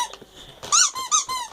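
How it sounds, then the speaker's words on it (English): Small squeaky bone pet toy squeezed a few times, giving faint soft squeaks at first, then two loud, sharp, high-pitched squeals close by. "also the little bone squeak"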